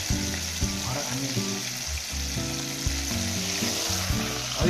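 Mule deer liver and onions frying together in a pan, a loud steady sizzle close by, mixed with low tonal background sounds throughout and no clear talking.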